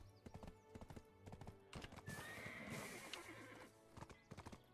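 Horse hooves clip-clop in Black Desert Online, a steady rhythmic trot of a mount in the game, loud and close, with a brief whinny and no talking over it.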